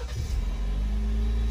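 A 2021 Jeep Wrangler Unlimited Sport Altitude 4x4 engine turning over and settling into a steady, close low idle rumble, with no talk.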